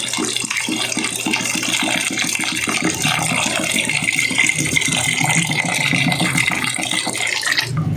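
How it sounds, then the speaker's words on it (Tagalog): Tap water runs steadily and loudly into a cooking pot for stewing kabadi, a continuous splashing rush with no pauses throughout. "lagyan na ng tubig"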